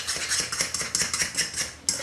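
Eggs scrambled in a pan over high heat, with a close, rhythmic scraping and clinking of a utensil against the pan in quick repeated strokes over a sizzling background.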